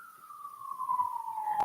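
An ambulance siren passes by, a steady wailing tone that slowly falls in pitch and grows slightly louder, sounding alone without any voices.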